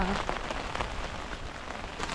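Heavy monsoon rain pours down steadily in a Konkan village, a dense, loud, continuous hiss of drops on surfaces with no voices over it.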